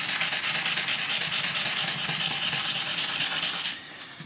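Circuit board being sanded by hand along the grain with 320-grit wet and dry sandpaper: a loud, close, rhythmic scratchy rubbing of quick back-and-forth strokes that drops abruptly near the end.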